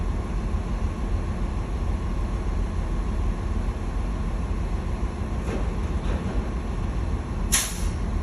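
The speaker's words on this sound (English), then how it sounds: "I heard the hissing sound. Air tanks are drained from moist." Truck air tanks being drained during a pretrip inspection give short sharp hisses, one faint and one louder burst, over steady idling engine noise with no talk.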